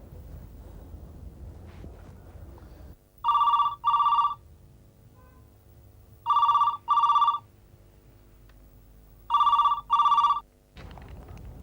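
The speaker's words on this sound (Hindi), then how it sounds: "उसका फोन नहीं आया तो? आएगा धनराज" An indoor telephone rings in three separate pairs of electronic bell trills, loud and clear against a quiet room hush, with short silences between each pair.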